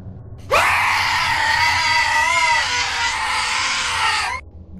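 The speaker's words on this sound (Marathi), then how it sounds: "आरशाच्या काचा फुटल्याचा आवाज आणि त्या स्त्रीचा भयानक किंचाळण्याचा आवाज एकत्र झाले." A woman's terrifying scream as a horror sound effect, one loud sustained shriek lasting about four seconds with a wavering pitch, cutting in sharply and stopping abruptly, with no clear glass break audible.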